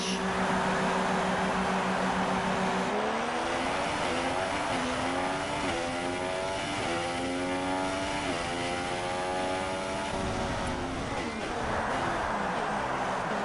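A Formula 1 car's engine in F1 2016 whines out of the garage at Monza, a loud steady idle that rises into climbing, stepping revs as it pulls away, with a radio voice briefly heard.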